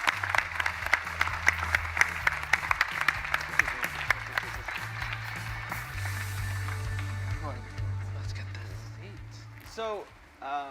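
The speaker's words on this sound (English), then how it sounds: "So if everyone could give a round of applause to Mr. Justin Wong and K. Brad." A crowd claps and cheers in sustained applause at E3 2017 that gradually fades, with a voice speaking over it near the end.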